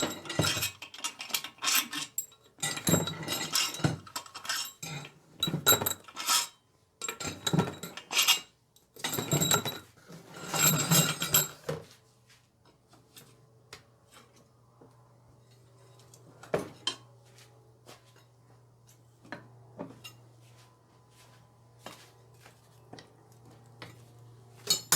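Bolts being taken out of a high-mileage GM Ecotec engine, with a burst of rapid metallic ratchet clicks and clanking tools, then quieter scattered taps and clinks over a low hum.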